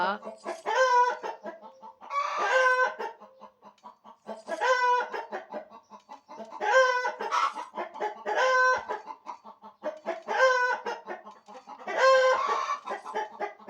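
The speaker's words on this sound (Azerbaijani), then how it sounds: "Toyuqları da sakitləşdirdim, ala, yenə başladılar." Chickens cluck in repeated bursts, about seven harmonic calls spaced roughly every two seconds, close and clear against a quiet background with no talk.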